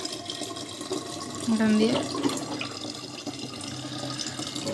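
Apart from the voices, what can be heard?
water being filled from a tap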